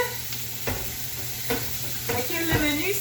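Potatoes frying in garlic butter in a pan, with repeated stirring scrapes and knocks over a continuous sizzle, close by.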